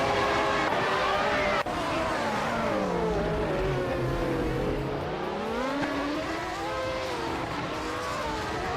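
A McLaren MP4/10 race car in a racing video game, its engine droning loud and close with a pitch that falls, dips low, then climbs again through shifting revs, steady and continuous without talk.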